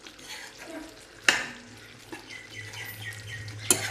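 Chicken stirred in a cooking pot with no added water: wet scraping and sloshing as a spoon turns the pieces, a few sharp knocks against the pot over a soft sizzle, close by.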